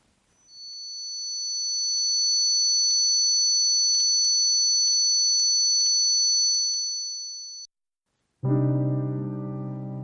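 A steady high-pitched ringing tone simulating tinnitus holds for several seconds alone in near silence, then stops abruptly before a brief musical chord begins.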